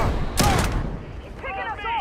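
Gunfire from a powerful gun in the sci-fi game Starfield, one loud broadband blast with a short tail near the start, followed by quieter game effects and faint voice-like sounds.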